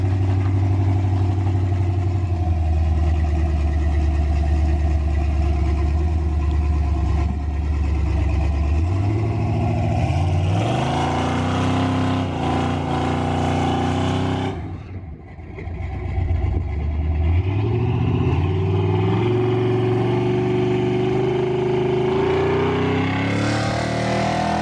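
A cheap carbureted street truck fitted with a two-step makes a pass: a loud, rough engine idles and then climbs through rising revs twice, with a brief drop in between, heard up close and alone.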